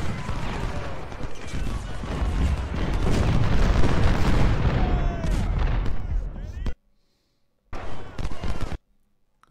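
Massed rifle volleys and artillery booms from the Civil War strategy game Ultimate General: Civil War, Battle of First Bull Run, roar as a dense, loud, continuous barrage that suddenly cuts to silence, followed by one more short burst of fire.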